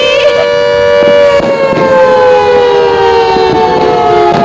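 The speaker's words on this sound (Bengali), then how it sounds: "সাইরেন উফ, মাত করে দিচ্ছিল একাই।" A loud, sustained siren wail whose pitch slowly glides downward, with faint pops and bangs underneath during a New Year's Eve night celebration.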